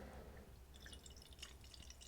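Pumpkin ale poured into a glass, giving a quiet, steady trickle of liquid with light fizzy crackle and small splashes, heard close up with no talk.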